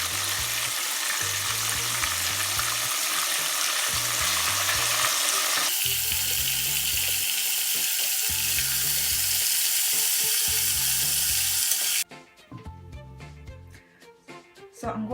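A second batch of chicken pieces fries in hot oil for Korean yangnyeom chicken, giving a steady loud sizzle with rhythmic stirring clatter, then cutting abruptly to quieter bubbling near the end.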